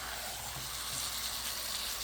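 Meat frying in a pan without added water, cooked down for a spiced braise with browned onions; a steady, close sizzle and hiss runs unbroken throughout, with no talk.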